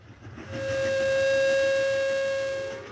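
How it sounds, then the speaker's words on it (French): The old Patagon express steam train lets out a single long, clear whistle in the foothills of the Andes, rising, holding steady for about two seconds and fading, with a faint rumble underneath. "C'est avec le sifflement du vieil express Patagon, qui rebondit sur les premières montagnes de la cordillère des Andes"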